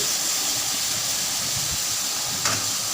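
Brinjals (eggplants) hit a hot pan for a brinjal and green peas curry, giving a steady, bright sizzling hiss throughout, with a brief clink near the end.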